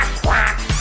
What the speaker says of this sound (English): I had my duck filter.